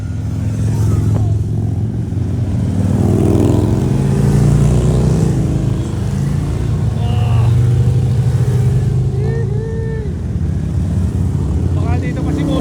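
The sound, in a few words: motorcycles passing by on road in Langley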